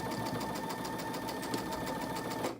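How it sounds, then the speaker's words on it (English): A sewing machine stitching along the side of a flower quilt block, a steady close rapid needle rhythm that runs continuously and stops abruptly at the end. "So I'm going to sew on this side"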